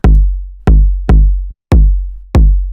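Synthesized acid breakbeat techno kick drum without its pitch envelope: five loud, deep, boomy hits in a steady groove, each decaying into a sustained low tail with a softer attack.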